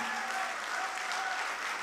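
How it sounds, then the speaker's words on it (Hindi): Dense audience applause at a poetry mushaira in Mysore, a steady, even wash of many hands clapping at once that fills the whole short moment without a break. "मुझे एक बार जोरदार ताली बजा करके हुक्म दीजिए।"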